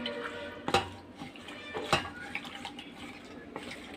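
Fish being tossed with turmeric powder in a bowl, a few soft clinks and scrapes of utensils against the dish, close and moderately quiet.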